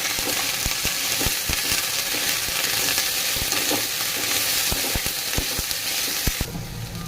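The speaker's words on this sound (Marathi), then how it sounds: "बघा असं डाग पडेपर्यंत आपल्याला भाजून घ्यायचं आहे" Cauliflower roasting in a pan for a Maharashtrian sabzi, loud continuous sizzle punctuated by sharp scraping clicks of a spoon stirring, with no talk.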